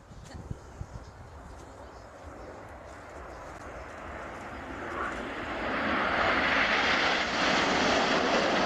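Red Arrows jet aircraft fly in formation at an air show, a distant broadband roar that grows steadily louder and fuller as they approach, with faint crowd sounds at first.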